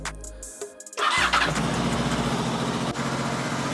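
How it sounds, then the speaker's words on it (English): Motorcycle engine starting: a few cranking clicks and whirs, then the engine catches and settles into a steady, close idle. "Right, I'm just gonna start the engine."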